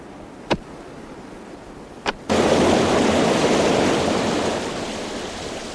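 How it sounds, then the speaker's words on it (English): Underground river water rushing behind rock: two sharp clicks, then a loud, steady broadband roar of running water that starts abruptly and continues, easing slightly toward the end. "we could hear an underground river running behind the rock"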